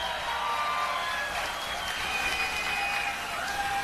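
Campaign rally crowd in Salt Lake City applauds a congressman from Idaho, a dense, even roar of clapping with a few faint whistles over it.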